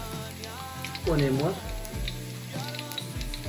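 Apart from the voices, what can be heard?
onions and bell pepper sizzling in a pan with garlic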